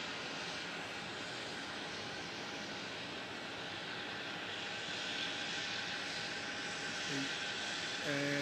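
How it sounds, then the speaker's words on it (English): A Jetstar Airbus A320 airliner taking off from runway 27 at Melbourne Airport, its jet engines making a steady, broad distant roar that swells slightly, heard from outside. "Departing on 27, Jetstar 532 for Sydney with an A320."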